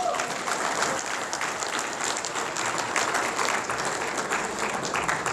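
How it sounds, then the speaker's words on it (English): An audience at a meeting gives a round of applause for the ladies: continuous, even clapping from many hands, heard at moderate distance and somewhat soft. "how about a round of applause for the ladies?"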